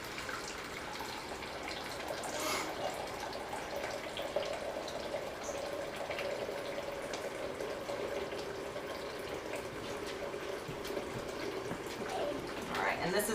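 Hot water runs from a small hot water heater in a home kitchen, a steady moderate trickle and splash continuing throughout at a low, even level, with faint speech-like sounds in the background.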